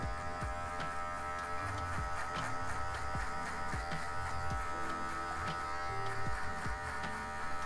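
Electric hair clippers with a guard buzzing steadily while cutting a V-shaped fade, close and continuous with small changes in tone as the blade moves through hair, no voices.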